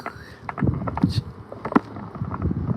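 Outdoor wind buffeting the microphone in uneven rumbling gusts, with scattered knocks and handling noise close by.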